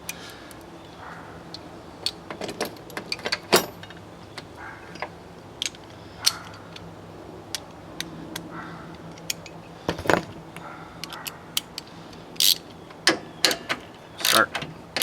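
An 8mm wrench works at the fan shroud bolts on a 2005 Ford F250 6.0L Powerstroke diesel, giving scattered sharp metallic clicks, ratcheting ticks and light clanks over a quiet, steady background hum.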